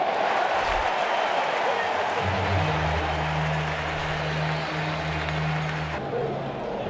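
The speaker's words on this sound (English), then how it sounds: "Crowd chants MVP." A stadium crowd at a Dodgers postseason game against the Cardinals in Los Angeles chants MVP in a loud, rhythmic, sustained drone, with broadcast commentators talking over the crowd noise.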